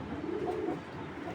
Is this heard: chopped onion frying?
no